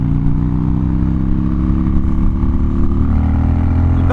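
A 2014 Harley-Davidson Dyna Street Bob revs after a downshift, its deep V-twin drone climbing gradually in pitch and loudness over several seconds as the rider accelerates, close and continuous.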